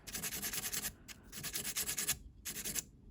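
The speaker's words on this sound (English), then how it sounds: "So now I've got both sanded with the 220." Silver earrings being sanded with 220 grit sandpaper, a soft, close, steady scratchy rubbing in a few continuous strokes with short pauses, quiet and with no talk.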